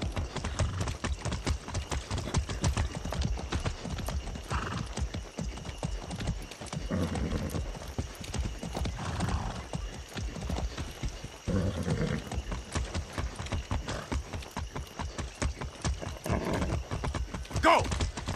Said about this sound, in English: A good horse.